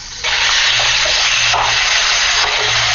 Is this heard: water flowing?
yes